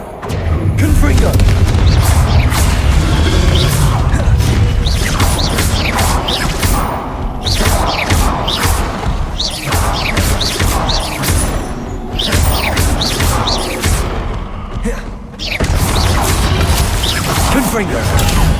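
Explosive Confringo spell blasts from the game Hogwarts Legacy, heavy booming bursts and crashing impacts repeating in quick succession throughout, loud and dense, with brief dips between volleys.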